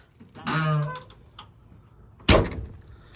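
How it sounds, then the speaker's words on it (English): A single solid thump of a 2014–2021 Toyota Tundra tailgate shutting lands partway through, preceded by a brief mechanical whir and some quiet shuffling. "All right, so I close up the truck."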